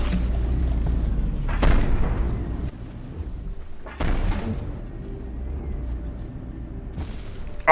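Two heavy booming impacts from cram cannon shells striking an ammo container in From the Depths, each a deep thud followed by a rumbling decay, about two seconds apart, over a low continuous engine drone, with another hit starting at the end.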